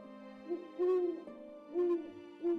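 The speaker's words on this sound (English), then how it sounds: "That's an owl, right? That is an owl." An owl hoots three times in a slow, steady rhythm, each call a soft, hollow, drawn-out note, heard clearly and alone against quiet background hiss.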